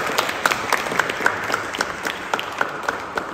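Audience applause breaks out at a student debate, a steady wash of many hands clapping with distinct sharp claps poking through at a fairly even pace, moderately loud and heard alone without voices.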